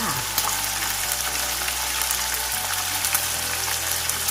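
Pork ribs frying in hot oil give a continuous, even crackling hiss, close and steady throughout, with a low hum underneath.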